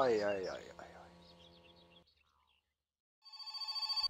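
A telephone rings inside the video game My Summer Car, its repeating electronic trill rising at the end after a stretch of speech and a short silence.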